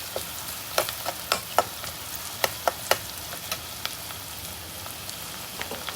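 Onions sizzle and crackle in a pan over a low flame while cooking for a tomato paneer pulav, with scattered sharp pops over a steady soft frying hiss and no talking.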